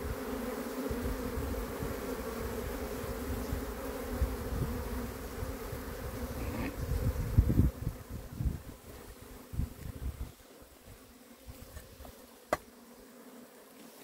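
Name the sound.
Apis honey bees buzzing at hive being cleaned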